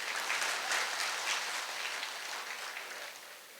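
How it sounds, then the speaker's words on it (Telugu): Audience applause from a crowd at a health talk, a steady wash of clapping that fades slightly toward the end, with no voices over it. "చప్పట్లు చెప్పండి అయ్యా."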